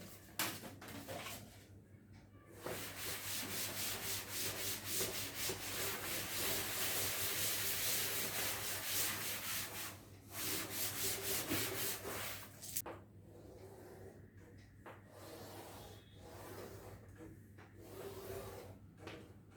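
A board is wiped clean by rubbing during a sensors and instrumentation lecture, with long scrubbing strokes broken by short pauses over a steady low hum.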